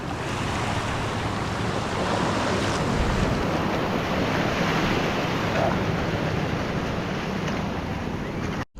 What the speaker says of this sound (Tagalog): parang lumalakas yung alon